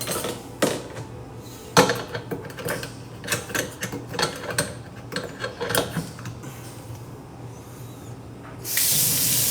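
Dishes clink and knock in a kitchen sink in scattered, close bursts, then a tap opens and water gushes steadily and loudly in the final second.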